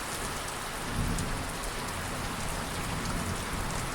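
Heavy rain pours steadily during the first thunderstorm of 2025, with a low rumble of thunder swelling faintly under the dense hiss of the downpour; nobody speaks.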